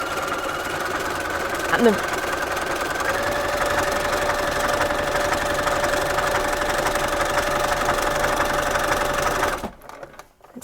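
A sewing machine runs an overlock stitch along the raw edge of fabric for scrubs, a steady close mechanical whir and rapid needle clatter lasting about nine seconds before stopping abruptly; a brief word is spoken near the start.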